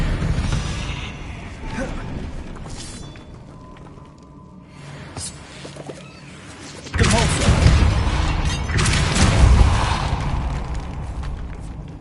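Fire-curse blasts in a Harry Potter wizarding game burst with whooshing booms and crackling explosions, a louder fiery eruption rolling in midway and continuing loudly to the end.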